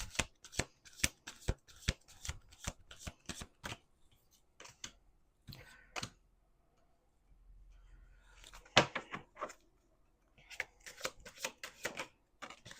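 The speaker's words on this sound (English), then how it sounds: "One card on the table. Two cards on the table." Tarot cards are shuffled in quick riffling bursts, then laid down one at a time on a table with soft slaps and pauses between, close and quiet with no voices.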